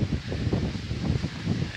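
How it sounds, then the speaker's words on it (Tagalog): Steady wind gusts buffet the microphone at a beach during a rising high tide, a continuous low rumbling roar that swells and dips with no voices. "So medyo mahangin na ngayon, guys, dahil paakyat na yung tubig."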